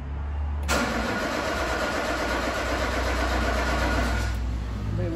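Peugeot 206 engine cranking without catching: a steady, loud starter whir close by that runs about four seconds, then cuts off.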